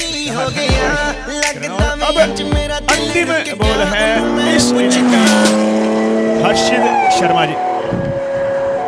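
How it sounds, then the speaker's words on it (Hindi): Motorbike engine sound effect played by a DJ over loudspeakers at a cricket match, with repeated revving bursts and rising, whining engine tones mixed with music, and a commentator talking over it throughout. "जो रफ्तार अभी बाइक की आपको डीजे पे सुनाई दे रही है"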